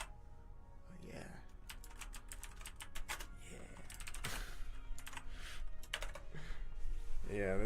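Rapid clicking on a computer keyboard, a gift from an old job, typed in uneven runs close to the microphone while someone talks intermittently over the keystrokes.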